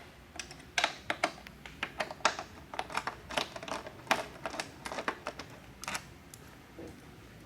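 Screws come out of the undertail on a 2008–2009 Honda CBR1000RR with a quick run of sharp, close clicks and taps in an irregular rhythm against a quiet background.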